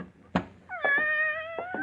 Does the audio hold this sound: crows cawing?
no